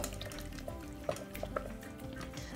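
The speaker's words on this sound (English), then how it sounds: "We're just gonna stir this up to get a nice, fragrant meat filling" A spoon stirs a thin meat filling for Christmas soup dumplings, moistened with chicken broth, with soft wet scraping and light knocks against the bowl close by over a couple of seconds, no voices.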